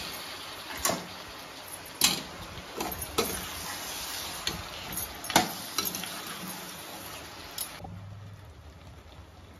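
Mutton sautéed in a pan at home, a steady soft sizzle with repeated sharp scrapes and clicks of a spoon stirring against the pan, fairly close and quiet, with no talk.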